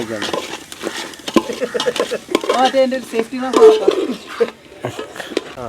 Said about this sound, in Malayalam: ഒരു രണ്ട് ടീസ്പൂൺ മുളക് പൊടി ഇട്ട് കൊടുത്തിട്ടുണ്ട് ഇളക്ക് അങ്ങോട്ട് ഇളക്ക്